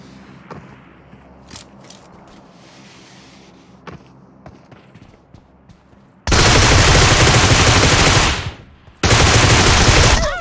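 Groza rifle fire in PUBG Mobile begins with scattered sharp shots over faint background noise, then turns into two loud, sustained bursts of automatic fire.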